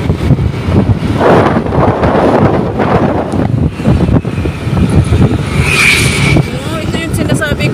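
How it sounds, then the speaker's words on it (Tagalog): Strong wind buffets a moving car driving a shortcut road near an expressway, a loud steady rush and roar that carries on throughout, with people talking over it. "Oh my gosh, lakas ng hangin."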